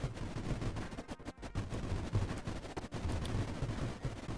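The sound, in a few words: anti-creeper bombs and gunships firing, from the video game Creeper World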